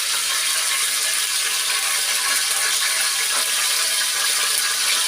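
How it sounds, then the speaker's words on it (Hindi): Hot oil sizzles steadily in a heated cooking pot, a dense, continuous hiss that stays loud and even throughout with no talking. "इसके अंदर आवाज़ आ रही है, पतीली हमारी गर्म हो गई थी तो हमने इसके अंदर ऑयल डाल दिया था"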